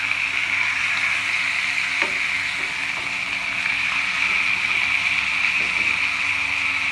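Pork chops sizzle steadily in a frying pan, a constant close hiss with a few soft clicks and bumps from the pan, loud and unbroken, and no one speaks.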